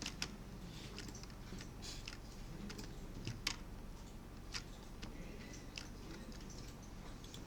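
Computer keyboard keys pressed while working in SketchUp and Twinmotion. Faint, scattered clicks come at an irregular pace over a low background hum, with no talking.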